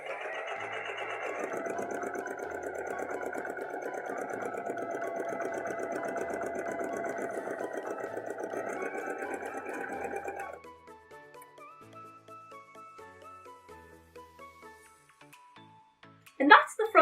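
A sewing machine runs steadily for about ten seconds, top stitching a line across a dress bodice, then stops; quieter handling sounds and a brief louder burst follow.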